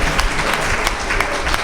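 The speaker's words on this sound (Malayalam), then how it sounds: "ഒന്ന് കൈയടിച്ച് കർത്താവിന് നന്ദി പറഞ്ഞ്." A congregation at a Christian retreat in Thrissur claps hands in thanks to the Lord. The clapping is loud, close and dense, a continuous roar of many hands with a few sharper slaps standing out.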